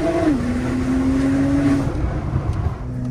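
A decat Porsche Turbo S launches, its loud exhaust note falling briefly with the shift, then holding a strong, steady drone before dropping away toward the end.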